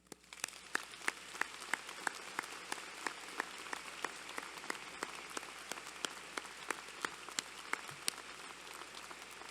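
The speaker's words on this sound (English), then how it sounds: "let's give you another round of applause." Applause from a university convocation audience for graduates: a steady, moderately distant wash of many hands clapping, with individual sharper claps standing out, continuing evenly without any voices.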